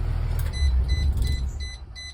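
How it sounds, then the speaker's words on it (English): A bus engine shuts off, its low rumble easing away while a few soft electronic beeps sound inside the cab. Fairly close and steady, with no talking. "and we turn off the bus"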